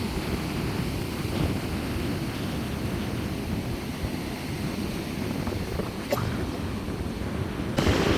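Wind blows steadily across a sea shore where waves break, a constant loud rumbling roar of gusts and surf buffeting the microphone throughout.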